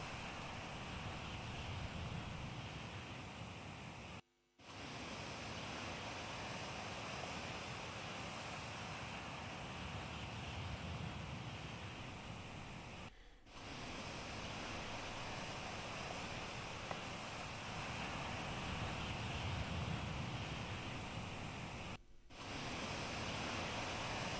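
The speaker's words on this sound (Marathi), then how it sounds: "समुद्राच्या मोठ्या लाटा या किनाऱ्यावर येऊन धडकत आहेत" Big sea waves surge onto the Ratnagiri shore at a high spring tide, heard as a continuous broad roar of surf. The sound stays at an even level and cuts out briefly a few times.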